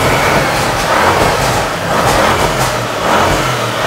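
Audi RS6 C7 engine with a steady, loud broadband roar that swells and eases over about four seconds, heard alone without talk.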